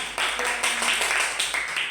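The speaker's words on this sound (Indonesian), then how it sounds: "tepuk tangan dulu untuk kelompok 3 ya" A classroom of students claps for group 3, several bursts of fairly faint, bright clapping in quick succession across the short span.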